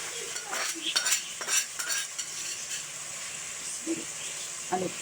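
Chicken pieces fry with onions and spices in a pan for a desi aloo gobi gosht curry, a soft sizzle under repeated scrapes and clinks of a metal spoon stirring, close and moderately loud.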